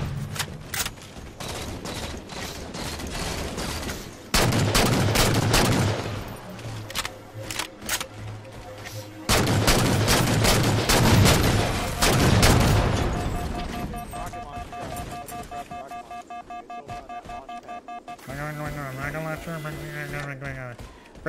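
Heavy gunfire rattles through a Halo 4 multiplayer match: loud bursts of automatic fire and blasts come in waves, with a player talking over the shooting throughout.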